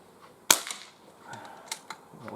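A single sharp crack from a Crosman 2300T CO2 air pistol fired outdoors at a can, loud and close, followed by faint outdoor rustling and small knocks.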